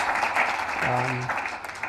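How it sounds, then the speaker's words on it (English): A brief round of applause at a business summit, a short burst of clapping from the room with a low sustained tone briefly sounding in the middle. "Big round of applause."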